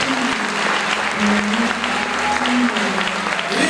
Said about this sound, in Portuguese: Bem forte as palmas para Deus.